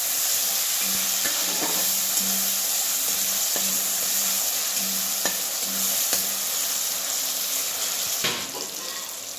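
Finely chopped tomatoes fry with garlic in a pan, making a continuous loud sizzle broken by repeated scrapes and knocks as the mixture is stirred, then the hiss eases slightly near the end.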